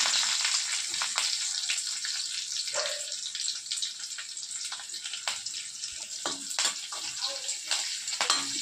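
Curry leaves and green chilies spit and hiss in hot oil, a continuous close sizzle with small crackles and occasional stirring clicks.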